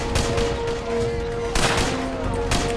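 Sustained gunfire in the WW2 shooter Heroes & Generals, a dense fusillade of rapid shots rolling continuously with sharper bursts near the end, loud and close over a steady background tone.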